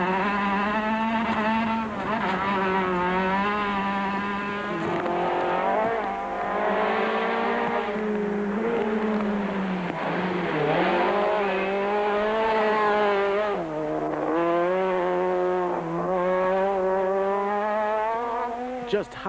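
A VW Polo rally car with failed front brakes charges through a muddy rally stage, its engine screaming loudly at high revs and rising and falling with gear changes, tyres skidding, while a narrator talks over it.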